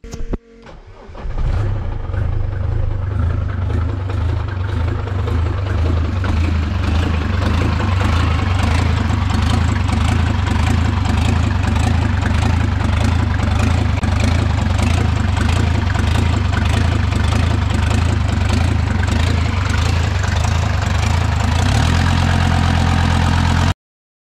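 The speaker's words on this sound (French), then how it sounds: "Je vais faire un petit démarrage test et on va voir." After a repair, a 400-horsepower car engine cranks and catches within about a second, then settles into a steady, loud idle heard up close for over twenty seconds before its tone shifts near the end.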